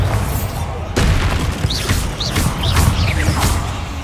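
A Bombarda blasting spell goes off in the video game Hogwarts Legacy: one sudden heavy boom followed by rumbling debris and several swooping magical whooshes, loud and close, no talking.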